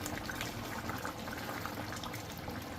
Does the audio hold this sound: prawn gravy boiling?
yes